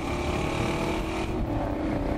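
A 1967 Pontiac GTO with its 360-horsepower numbers-matching motor pulling through a gear change, a steady loud engine drone that dips slightly midway as the next gear is grabbed.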